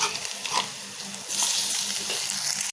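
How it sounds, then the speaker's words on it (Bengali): Cabbage pakoras frying in hot oil produce a steady, crackling sizzle up close that grows louder and hissier halfway through. "এই যে আমার পাতাকপির পাকোড়া ভাজার সাথে সাথে"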